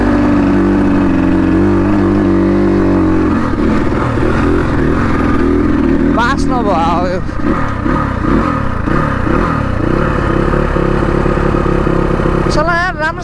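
A motorcycle engine revs in repeated bursts after trouble starting and stalling, loud and close, with a rough clattering rhythm and voices talking over it.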